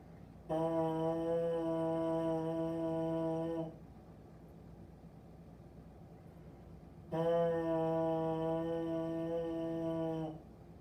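Two long sustained trombone notes, each held about three seconds, separated by a silent rest of similar length.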